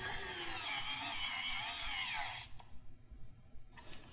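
A Xiaomi Wowstick P1+ electronic screwdriver tightens a screw with a steady high-pitched motor whine for about two seconds, then stops, leaving faint handling clicks and small scraping sounds.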